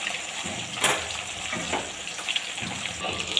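Katla fish pieces frying in hot oil in a pan after being turned to cook the second side, giving a steady close crackling sizzle with a few sharper pops.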